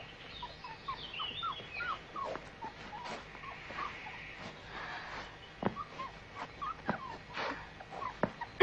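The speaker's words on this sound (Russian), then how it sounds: "Собака? Откуда здесь собака?" Soft, high-pitched dog whimpering and whining in short repeated yelps, faint and close, with occasional sharper squeaks scattered throughout.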